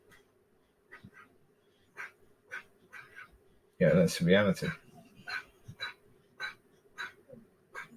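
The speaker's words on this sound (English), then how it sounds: "We've got a few dogs sleeping right now and dreaming." Several dogs asleep and dreaming let out soft, brief whimpers and muffled yips at scattered intervals, with someone talking over them partway through.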